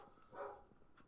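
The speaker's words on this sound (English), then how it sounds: "Oh, I heard a dog barking." A single dog bark rises briefly out of a low background hum in the video game Project Zomboid, sounding distant and faint, followed by a softer yip.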